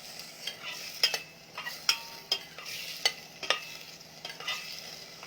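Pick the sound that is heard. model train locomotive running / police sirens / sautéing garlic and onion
sautéing garlic and onion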